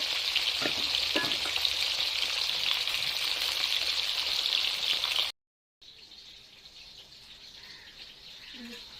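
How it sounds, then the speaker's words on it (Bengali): Fish fries in hot oil, a dense bright sizzle that runs steadily with occasional light clinks, then breaks off and returns fainter, with faint bird chirps behind and no talking. "এবার আমি মাছটা ভালোভাবে কড়া করে ভেজে নেব।"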